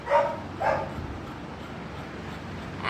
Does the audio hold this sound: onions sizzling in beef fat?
no